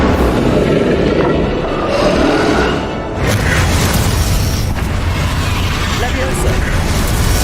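Spell explosions from Bombarda and Confringo in the video game Hogwarts Legacy, a dense run of loud booming blasts and bursts in a busy final battle, with a voice calling out over the din.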